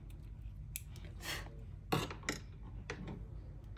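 Scissors snip excess card paper during handmade card crafting, a few separate close cuts with quiet pauses between them, soft and crisp in a quiet room.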